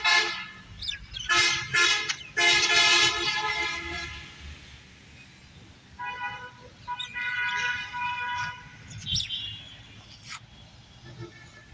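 Air horn on an Ashok Leyland B1616 Super bus chassis, sounding in several loud, brassy blasts of varying length with short gaps between them and no talk.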